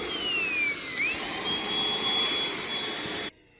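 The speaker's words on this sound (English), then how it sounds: "Never thought I would be using a little vacuum, like dust buster thing for a shop" A small handheld dust-buster vacuum cleans sawdust in a woodworking shop, its steady high-pitched motor whine running close and loud before cutting off abruptly at the end.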